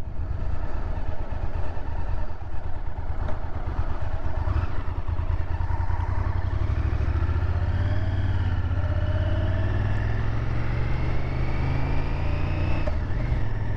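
A 1998 Honda VTR SuperHawk V-twin motorcycle rumbles loudly and continuously while being ridden, its engine note climbing steadily in pitch as it accelerates, with wind noise close by.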